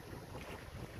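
Wind rushes steadily past an O'Day 272 sailboat moving through fog, a loud, even roar of wind noise on the microphone with no talk.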